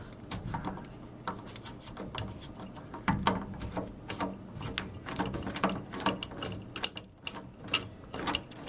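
Small metallic clicks and ratcheting turns come from a screwdriver working a screw out of a ceiling fan blade, irregular and close, with light handling knocks in a quiet room.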